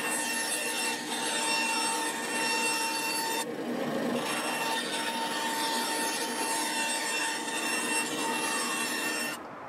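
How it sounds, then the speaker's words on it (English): A bandsaw rips through wood for a guitar fretboard on a seven-string acoustic build, giving a steady close, loud whine and rasp with a brief pause partway through and no talking. "So I can just rip this with the bandsaw real quick."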